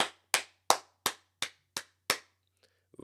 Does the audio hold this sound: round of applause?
yes